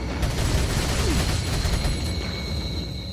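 Rapid bursts from a TMP machine pistol in Resident Evil 4, a fast rattling stream of shots that continues steadily at moderate loudness.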